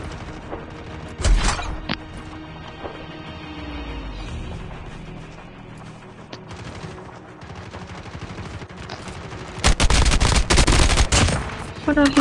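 Gunfire in the mobile shooter game COD Mobile, with loud rapid bursts and single shots from a match, the heaviest barrage near the end, over continuous game sound.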